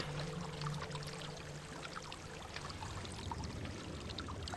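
A waterfall in the video game Hellblade: Senua's Sacrifice, a steady broadband rush of falling water that stays even and continuous throughout, with a faint low tone underneath.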